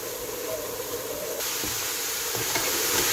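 Meat frying in a pan as the base for homemade spaghetti sauce, a steady close sizzle and hiss with faint stirring scrapes throughout.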